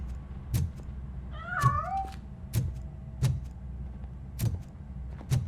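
A single video game cat meows once, a short rising-falling cry, amid a quiet steady hum and evenly spaced soft clicks.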